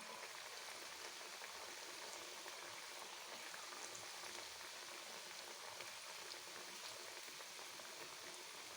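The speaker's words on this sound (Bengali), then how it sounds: "একটু তেল দেবেন কড়াইতে বেশি করে এবং গরম তেলে এগুলোকে ভেজে নেবেন" Palm-fruit lyangcha fry in plenty of hot oil in a wok, giving a faint, steady, dense sizzle with no pauses.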